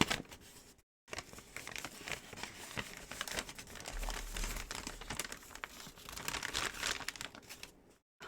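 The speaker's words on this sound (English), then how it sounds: "take the fries and the burger out of the bag" Paper bag from Wendy's crinkling and rustling steadily as fries and a burger are pulled out, close and continuous with brief pauses at the start and end.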